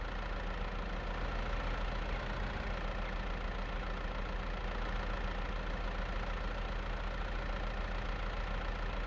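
A tractor engine idles and rumbles steadily while reversing in Farming Simulator 22, a constant droning mechanical hum with no breaks or talk.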